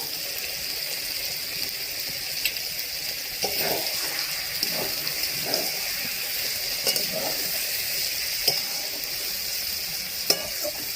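Cabbage cooked with fish head sizzles steadily in a pan while a spoon stirs it, with light scraping taps every second or so over a constant frying hiss, close up and with no voices.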